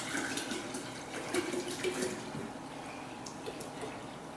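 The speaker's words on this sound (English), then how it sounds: "I'm going to take my purified water Fill my jug all the way up to here" Purified water runs from a tap into a jug, a steady splashing stream that fills the vessel over several seconds, with faint background sounds throughout.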